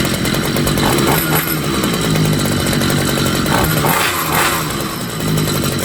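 A small two-stroke string trimmer engine idles steadily with its clutch disengaged, a loud, continuous buzzing drone with a slightly uneven, burbling rhythm, running close by and alone.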